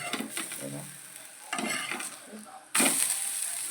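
Besan poli flatbread roasting in a little oil on a pan, a soft sizzle broken by louder scraping and shuffling bursts, close and fairly quiet, with faint speech underneath.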